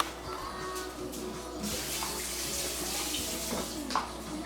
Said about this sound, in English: let me give a quick rinse